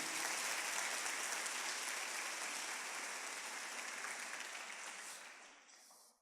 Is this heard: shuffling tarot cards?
no